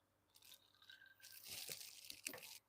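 Close, quiet slurping through a straw with crinkly rattles of ice, a few wet sucking bursts building then stopping abruptly.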